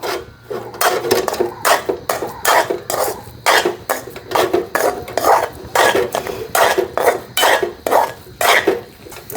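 Coconut milk toffee mixture being stirred in a pan, rhythmic rasping scrapes of a spoon against the pan bottom repeating steadily, loud and close, with no talking.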